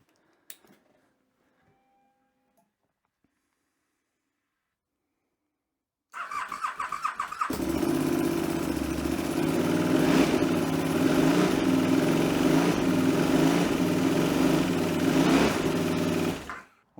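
A KTM SuperDuke 990 motorcycle, bought with issues and a lingering oil pressure warning, cranks after several seconds of near silence, then catches and runs with a loud, steady close engine drone until it cuts off at the end.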